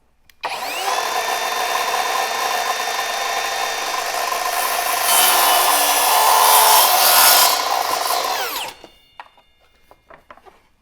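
A miter saw slices through crown molding set for an inside-corner cut, the blade spinning up loud and steady for about eight seconds with a harsher bite midway, then winding down into a few faint clicks.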